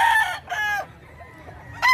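A gamecock rooster among fighting cocks in Bocaue, Bulacan crows close and loud in strong harmonic bursts, with a second crow starting at the end and faint low background noise between.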